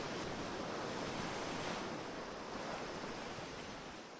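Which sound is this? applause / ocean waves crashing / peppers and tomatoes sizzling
ocean waves crashing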